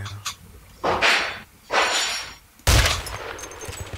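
Gunfire in a video game comes as three or four loud, close bursts of shots spaced about a second apart, each rattling briefly before fading.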